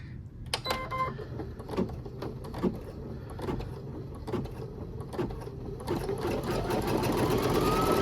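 A home embroidery machine stitches a tack-down on a coral piece, a fast, steady mechanical rattling hum with clicks near the start, close and continuous, growing louder toward the end with no talking.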